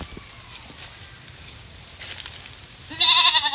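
A goat about to be butchered gives a loud, close bleat near the end, after quieter stretches of background noise and faint farm sounds.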